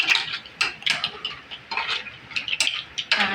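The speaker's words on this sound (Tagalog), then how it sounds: "Haluin para yung hipon na luto." Shrimp being stirred in a cooking pan, with a utensil scraping and clinking against the metal in quick irregular strokes over a light sizzle, close and fairly loud, no talking.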